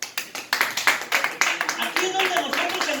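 A church congregation claps together in a rhythmic series of sharp, near claps that thicken into sustained applause, with voices mixed in.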